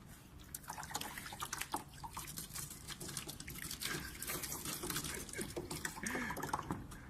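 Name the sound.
water discharging from heater in Arduino project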